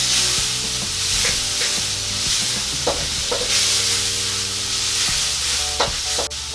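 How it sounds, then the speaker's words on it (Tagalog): Chopped onion sizzles in hot oil with light-browned garlic for dandelion sinigang, a steady loud frying hiss broken by repeated spoon scrapes and stirring clatter in the pan, no voices. "Isunod na po natin ang sibuyas. Tapos, hahaluin lang po natin."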